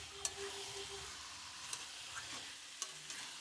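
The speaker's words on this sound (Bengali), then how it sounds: "এবার আমি মশলা মাংস আর আলু একসাথে ভালো করে কষিয়ে নেব।" Spiced chicken and chunks of yam being stir-fried in a pan, with a steady soft sizzle under scraping strokes and a few sharp spatula taps against the metal, fairly quiet and close.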